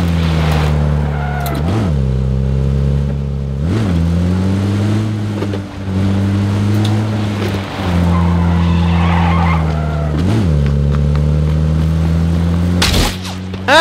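A video game car builds speed, its engine droning loudly and revving in repeated surges, with several sharp skids and tire squeals breaking through the steady roar.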